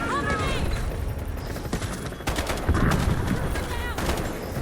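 PTR-32 assault rifle fire in the Delta Force video game, repeated close gunshots and short bursts in a busy battle scene with mechanical game noise, and someone speaking over part of it.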